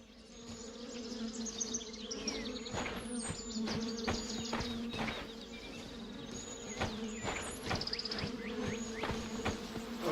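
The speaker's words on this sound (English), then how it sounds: "I hear the bees. I don't see them." A swarm of bees buzzing up in a tree in a medieval adventure game, steady droning hum with many individual insects whining past at varying pitches, close and continuous, with no talking.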